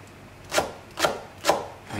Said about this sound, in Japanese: めんどくさいのでネギを切っておきます